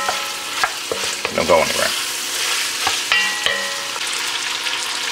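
Cabbage and andouille sausage sizzle and crackle in a hot pan, with intermittent clanks and scrapes of a utensil stirring; a brief voice speaks partway through.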